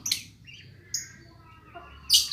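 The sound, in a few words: lovebirds chirping in their cage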